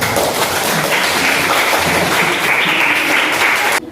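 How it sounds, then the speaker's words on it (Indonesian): Classroom students applaud together in a steady, dense burst of clapping that fills the room for about four seconds before cutting off abruptly. "Okay, give applause."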